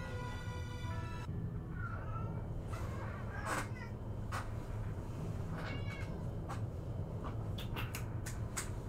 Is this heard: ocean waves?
no